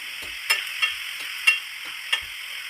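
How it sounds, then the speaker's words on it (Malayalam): Finely sliced onions fry in hot coconut oil with a steady bright sizzle, punctuated by four or five sharp taps and scrapes of a spoon being stirred through the pan. "വെളിച്ചെണ്ണ ചൂടായി വരുമ്പോൾ നൈസായി കട്ട് ചെയ്ത് വെച്ച സവാള ചേർത്ത് ഗോൾഡൻ ബ്രൗൺ നിറമാകുന്നത് വരെ വറുത്തെടുക്കണം"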